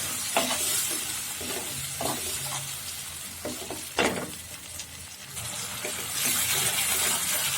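Spices and tomato paste for a lentil and okra dish are stirred in a frying pan over a steady low sizzle, with a few soft scrapes and taps of the spoon close by and no voices.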